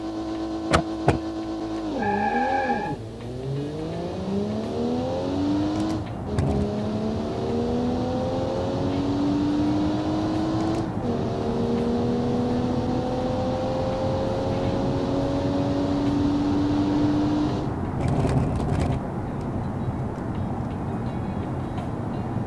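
The Sparvy Aero 3.0 Turbo car in the Automation racing game revs hard through a quarter-mile run, its engine tone climbing repeatedly between gear shifts, loud and continuous.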